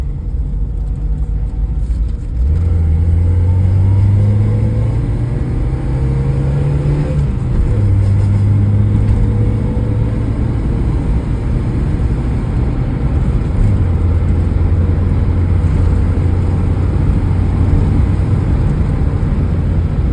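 Peugeot 305 turbo estate car driving in second gear, its engine droning steadily and rising in pitch as it revs after the gear shift, loud and close with no talk.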